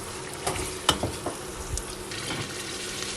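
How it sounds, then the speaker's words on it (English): Tinned tomatoes being stirred into lamb that has cooked for half an hour for a Sindhi lamb biryani, giving a low, steady sizzle with a few soft spoon knocks and scrapes against the pot. "Now I'm going to add a tin of tomatoes in it. Just going to give that a mix."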